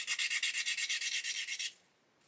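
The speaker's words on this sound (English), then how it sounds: "just get a sanding stick and just polish up the edge" Quick, steady rubbing strokes of a sanding stick polishing the plastic edge of a 1/8 scale Lamborghini Aventador model kit part, about a dozen even passes close to the mic, then it stops.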